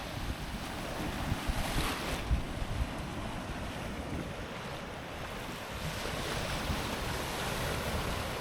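Surf rolls onto a quiet, off-the-beaten-path Costa Rica beach where waves arrive from several directions, a constant wash of breaking water mixed with wind buffeting the microphone, no voices.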